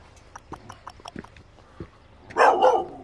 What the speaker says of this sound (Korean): 저 친구는 으르렁대면서 꼬리는 흔드네요.